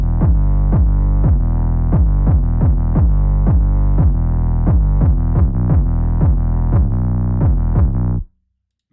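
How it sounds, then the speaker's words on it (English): M1 house piano layered with the organ 2 preset, struck as a house split in a run of repeated stabbed chords at a steady rhythm, loud and alone, with an EQ applied and the last chord cut short. "which is the organ 2 preset layered with the M1 house piano."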